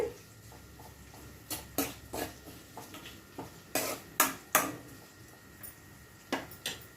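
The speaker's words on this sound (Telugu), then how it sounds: "సాల్ట్ వేసి ఒకసారి కలిపేసి" Onions cooking in a pan are mixed with salt, giving scattered light scrapes and metallic taps of a spoon against the pan, quiet and close with no talking.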